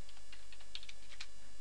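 Light keystrokes on a computer keyboard, a few quiet clicks in a short burst with small gaps, faint and close, no voices.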